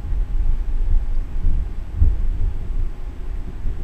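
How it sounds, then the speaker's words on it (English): Low, rolling thunder rumbles throughout a late-night February thunderstorm in North Carolina, heavy and sustained with a deeper swell near the middle, heard with no talking. "You could probably hear the thunder that time."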